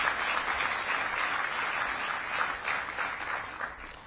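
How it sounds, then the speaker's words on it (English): A crowd applauds at the annual DMPED March Madness event with Mayor Bowser, a moderately loud, continuous patter of many hands that holds steady and thins slightly toward the end. "Let's give her a round of applause for all her efforts and work."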